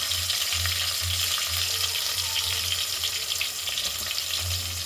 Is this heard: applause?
no